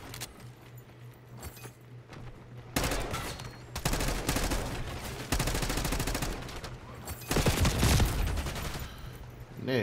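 Call of Duty gunfire erupts in loud, rapid bursts of automatic shots after a quieter opening, with clinking metallic rattles between volleys and several sustained fusillades close up.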